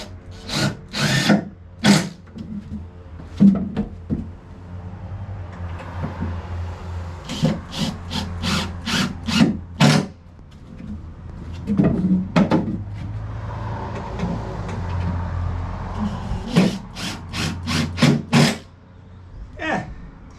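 Power drill driving screws down into wooden deck boards outdoors, in repeated short whirring bursts separated by pauses and knocks, close and fairly loud.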